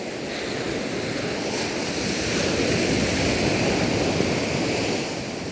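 Steady wash of sea surf rolling onto a beach, continuous broadband rush that swells slightly in the middle, with some wind on the microphone and no talking.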